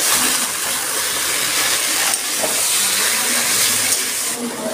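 Taro leaves hit a hot pan in a Bengali shrimp and taro-leaf dish, setting off a loud, constant close-up sizzle and steamy hiss that barely changes across the whole stretch, with no voices.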